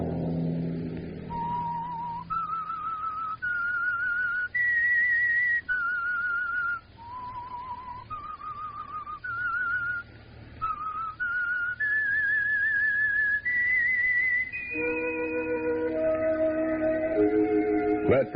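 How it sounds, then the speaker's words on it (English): A lone whistler carries a slow, eerie melody of held notes stepping up and down, the old-time radio theme for The Whistler, ending as orchestral chords swell in beneath it. "Let that whistle be your signal for the Signal Oil program, The Whistler."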